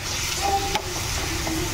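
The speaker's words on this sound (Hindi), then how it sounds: "ये तड़का हो गया तैयार, ये दही में इसी में डाल दूँगी" Spices tempering in hot oil for a tadka sizzle steadily in a pan at home, a close, continuous frying hiss with a faint clink partway through.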